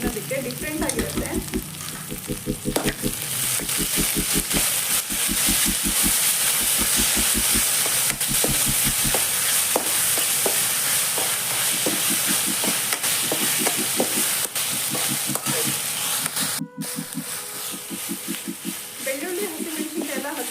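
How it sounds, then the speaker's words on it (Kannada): Garlic and green chillies sizzle and hiss steadily in a hot pan for chilli chicken, with a rhythmic scraping of the spoon stirring through the frying, continuous and close throughout. "ಬೆಳ್ಳುಳ್ಳಿ, ಹಸಿಮೆಣಸಿನ್ಕಾಯಿ ಎಲ್ಲ ಹಸಿ ವಾಸನೆ ಹೋಗೋ ತನಕ ಫ್ರೈ ಮಾಡ್ಕೋಬೇಕು"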